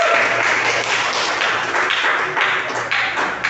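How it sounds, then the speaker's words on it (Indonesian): Applause from students in a university civil procedure law class, a dense continuous patter of clapping filling the room at steady loudness for a few seconds with no voices over it. "tepuk tangan buat teman-teman"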